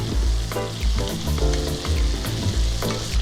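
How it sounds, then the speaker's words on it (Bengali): Diced potatoes fry with salt and turmeric for a fish tel chorchori, a steady loud sizzle broken by repeated stirring scrapes and clatters, with no voices. "নুন হলুদ দিয়ে ভালোভাবে নাড়িয়ে দিচ্ছি। আলুটা সামান্য ভাজা হবে।"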